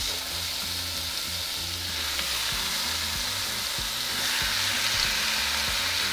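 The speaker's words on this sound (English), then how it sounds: "we're going to place our meat. And we're going to begin to sear for a couple minutes on each side" Beef searing in hot oil in a pan for cheesy shredded beef tacos, a steady loud sizzle and crackle running throughout with no talking.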